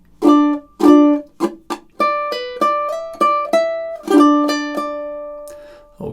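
Ukulele strummed through two measures of a song: a steady series of bright, close strums in a chord progression, some short and clipped, others ringing, with a longer sustained chord near the end before fading.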